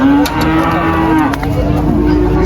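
A hornless purebred Limousin bull at a cattle market moos loudly and close by, one long sustained low bellow that fills the whole stretch, with no talking.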